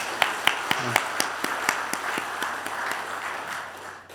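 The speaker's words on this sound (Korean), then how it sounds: "우리 찬양으로 영광 돌린 찬양대 위에 다시 한번 격려의 박수 하도록 하겠습니다." Church congregation applauding the choir after a hymn of praise, a steady patter of many hands with sharper individual claps standing out, fading toward the end.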